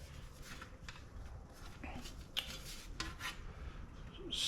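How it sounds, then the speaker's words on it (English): A cutting tool slices through sheet metal with quiet, scraping, clicking cuts in short bursts, close by against light background noise. "It slices the metal out of the way."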